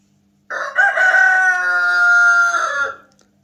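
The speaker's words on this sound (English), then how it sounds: "I know he's technically making sure that all of the other roosters know that he's kingpin." A rooster lets out one full, loud crow close by, a sustained cock-a-doodle-doo lasting a couple of seconds against otherwise quiet surroundings.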